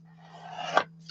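Scissors snip once through paper while making envelopes and pockets for a craft project, a short soft crunching cut heard close up in a quiet room.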